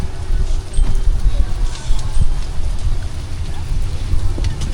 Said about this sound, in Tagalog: Pabubugso-bugso yung hangin.